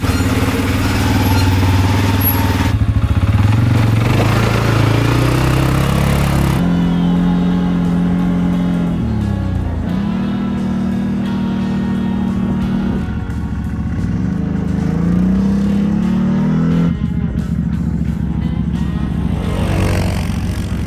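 A CFMoto CForce 500 ATV fitted with a stage 2 clutch kit is ridden, its engine droning and revving up and down continuously, loud and close throughout, with no talking.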